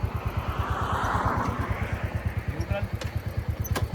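A motorcycle idles with a steady, loud low chugging pulse while a rider works the gear lever, under nearby talk.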